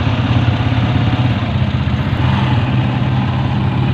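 An SRM 150 motorcycle idles up close with a steady, throbbing low engine rumble and an even rhythm, loud and continuous, with no voices.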